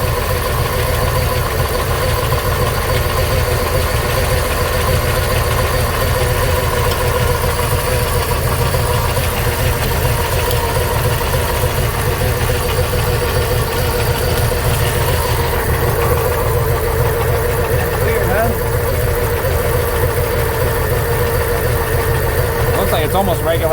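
A loud 1996 Jeep Grand Cherokee engine idles steadily after a warm start with a rough, throbbing rumble, close and continuous, its pitch settling slightly lower over time.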